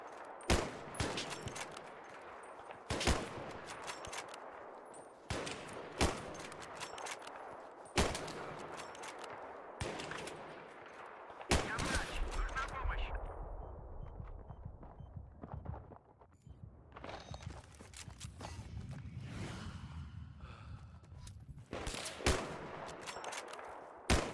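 Gunfire in Battlefield 3 on PS3: repeated loud bursts and single sharp shots, automatic fire crackling in rapid volleys with heavy low rumbles between, dense and continuous with no talk.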